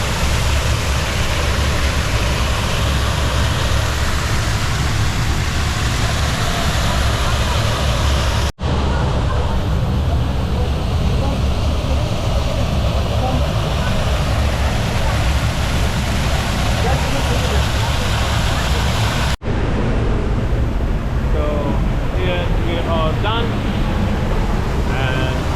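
Water dripping and rushing inside a noisy side cave at Duden Waterfall in Antalya, a loud continuous roar of falling water filling the whole time, broken by two brief cuts.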